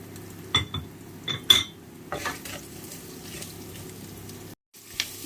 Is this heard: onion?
yes